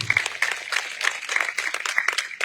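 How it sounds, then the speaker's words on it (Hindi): Audience applause at a political rally speech, a brief burst of many hands clapping in a dense, fluttering rhythm, moderately loud and close, with no talk over it. "जोरदार तालियों से स्वागत।"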